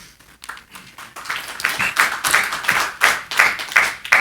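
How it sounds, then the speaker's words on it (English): An audience at a city planning board meeting claps in a council chamber, with scattered claps building into a steady round of applause at moderate loudness and no speech. "It's not necessary to clap."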